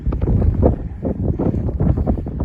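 Strong wind buffets the microphone near Mangla Dam by the Mirpur bridge crossing, with boats nearby on the water; a loud, continuous gusting roar rises and falls throughout without any voice.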